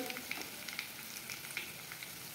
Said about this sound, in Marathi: हे सगळं तेलात भाजून घ्यायचे